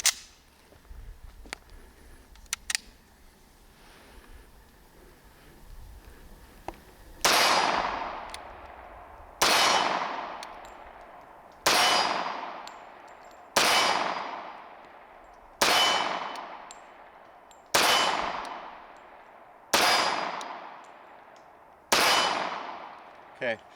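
SIG Sauer P220 Legion pistol firing 230-grain 45 ACP rounds outdoors: nine sharp, loud shots in an even, deliberate rhythm, each followed by a ringing decay, after a quiet stretch of faint handling noises.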